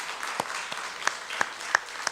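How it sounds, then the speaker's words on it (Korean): A church congregation at an evening worship service gives applause that comes through as sparse, scattered claps, quiet and irregular, with a few sharper individual claps standing out. "우리 하나님께 영광의 박수 올려드리겠습니다."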